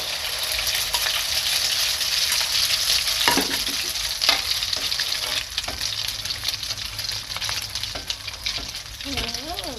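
Omelette with minced pork frying in a pan, a loud unbroken sizzle with stirring scrapes and clinks throughout, and a brief voice at the very end.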